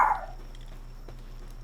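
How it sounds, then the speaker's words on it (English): A creature in the video game Palworld lets out a single loud bark right at the start, then the sound drops to a quiet background hum. "Don't know why it had to bark."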